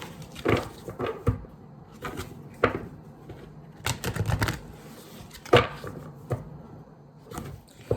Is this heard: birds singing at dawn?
no